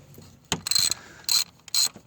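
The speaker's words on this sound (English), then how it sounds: "get a long extension and ratchet, 10mm socket" A ratchet wrench fitted with a long extension and a 10mm socket clicks in a few short, sharp bursts, close and fairly quiet, with brief pauses between strokes.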